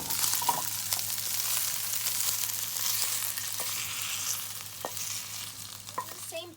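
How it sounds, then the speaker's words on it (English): Meat for a Turkish kabab sears and sautés in a pan, making a loud, steady sizzle with occasional stirring scrapes, close up and without speech. "We're just sauteing the meat and it already smells amazing in the kitchen."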